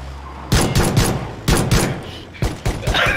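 Pistol gunfire in PlayerUnknown's Battlegrounds: several loud, sharp shots in short bursts, spaced irregularly across a few seconds, close and punchy.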